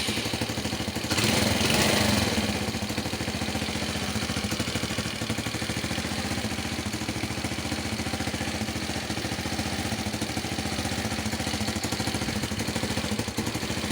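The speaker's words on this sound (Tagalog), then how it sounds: "Ang lakas ng kalabog ng makina ilalim." A KYMCO Super 8 scooter engine with a 4-pin CDI runs steadily and loudly, with a rough, thudding clatter from underneath and a brief louder surge near the start.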